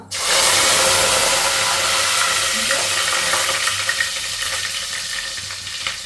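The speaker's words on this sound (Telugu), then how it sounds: "ఈ ఆయిల్లో వేసిన తర్వాత ఇందులో కర్రీ లీవ్స్ వేస్తున్నాను" Cumin seeds and curry leaves drop into hot oil for a mutton curry, erupting into a loud, close sizzle that slowly settles into a steady crackling fry.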